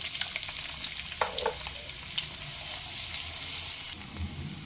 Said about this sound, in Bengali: পেঁয়াজ সোনালি রং ধরে আসা পর্যন্ত অনবরত নেড়ে চেড়ে ভেজে নিয়েছি